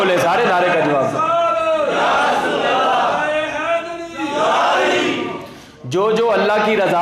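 A large crowd at a religious gathering shouts a response to a slogan in unison: loud, sustained massed voices in a couple of long swelling bursts that nearly fill the space, with a brief dip before the roar resumes.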